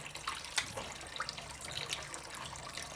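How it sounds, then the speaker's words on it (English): Water running over peeled beans being rinsed and filtered for akara or moimoi, a faint trickling, splashing stream with small drips, no speech. "So at this point, I get to rinse, filter it"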